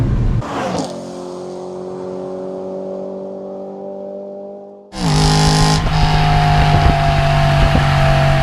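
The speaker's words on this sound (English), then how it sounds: "That exhaust note is so good" A BMW E92 M3 engine revs hard with a rising, raspy exhaust note through an aftermarket exhaust, eases into a steady drone, then roars up again loudly close by.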